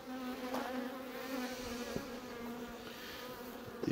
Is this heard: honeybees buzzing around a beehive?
yes